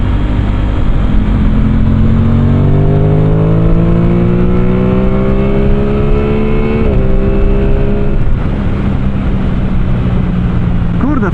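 Aprilia Tuono 660 Factory parallel-twin motorcycle engine heard while riding, a loud steady drone that climbs in pitch through the gears, with a shift near the midpoint and a rise again toward the end, over constant wind rush.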